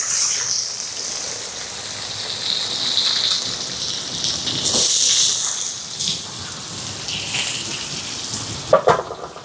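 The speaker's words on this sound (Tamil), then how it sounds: "இப்போ இதெல்லாம் வதங்கட்டுக்கு நல்லா." Fennel seeds, curry leaves, dried and green chillies, garlic and shallots sizzle and crackle steadily in hot oil in a pan, a continuous close hiss with a few louder pops near the end.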